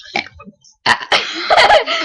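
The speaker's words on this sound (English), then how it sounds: "our little sister even burps" A small child lets out a series of short burps, a soft one early on, then louder, longer throaty eructations bunched together near the end, heard up close with no speech.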